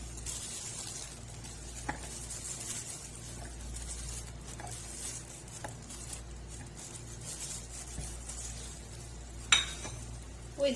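Garlic frying in oil, with peppers mentioned in the pan, produces a soft, steady sizzle broken by a few faint clinks and scrapes of stirring.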